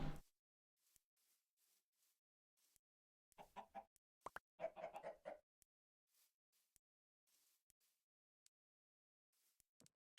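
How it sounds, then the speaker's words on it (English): Minecraft chickens let out a few faint, brief clucks amid soft plopping and clicking game sounds, with no talking. "Really, chickens?"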